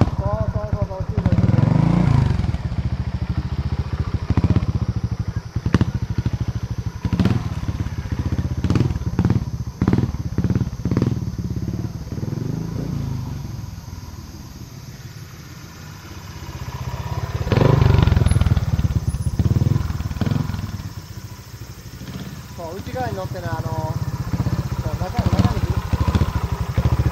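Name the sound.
trials motorcycle engine with throttle being blipped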